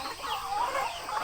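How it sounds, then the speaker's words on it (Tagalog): Native farm chickens, including young ones, cluck and chatter continuously at close range during feeding, their calls overlapping in a busy flock. "So, manok na ano to, manok na native."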